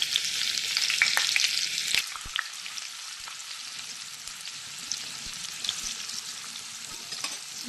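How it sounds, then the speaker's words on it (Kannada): Chopped onion sizzling steadily in hot oil in a pan, a dense crackling hiss with occasional sharper pops and stirring scrapes, close and continuous with no talking. "ಬೇಸಿಲಿ ಈರುಳ್ಳಿ ಫ್ರೈ ಆಗ್ತಾ ಬಂತು."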